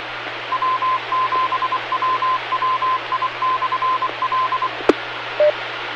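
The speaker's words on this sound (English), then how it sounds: "I hear dead silence, just the ID for the repeater" An amateur radio repeater sends its identification as a steady string of short, evenly keyed tones over a low hum and hiss, followed by a sharp click and one brief beep.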